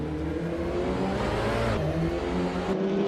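Loud, sustained race car engine roar heard from the cockpit of a British Touring Car Championship car at Sonoma Raceway in a racing game, revving steadily with a brief pitch drop and climb near the end.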